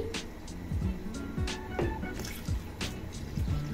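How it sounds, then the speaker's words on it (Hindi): Water poured from a glass into a pot of soaked lentils for chicken haleem, giving soft trickling and splashing bursts with faint dripping in between, close and fairly quiet. "अब मैं इसमें ऐड करूंगी इस पॉइंट पे मजीद 2 गिलास पानी।"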